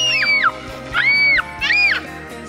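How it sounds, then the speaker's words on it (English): A young child screams loudly three times in a row, high rising-and-falling shrieks in a casual family game, each lasting about half a second with short gaps. "Who can scream the loudest?"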